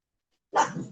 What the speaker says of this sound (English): Bella's barking, Brinley's growling